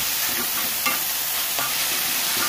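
Banana heart sautés in a pan with a steady, close sizzle and occasional stirring scrapes, no voices.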